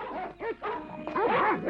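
Cartoon dogs about to be set on bears bark and yip in short, close, excited bursts, with a whimpering whine mixed in.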